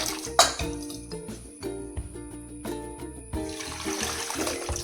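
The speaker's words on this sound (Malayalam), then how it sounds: "വെള്ളം ഒഴിക്കുക." Water poured into a tamarind mixture for rasam, trickling and splashing in a vessel with a few clinks of the pot, nearby and uneven.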